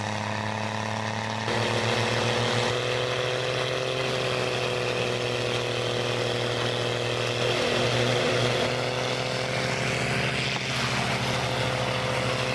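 A large wood chipper shredding branches and tree trunks, its engine roaring loudly and continuously with a steady drone and slight surges in pitch, no voices.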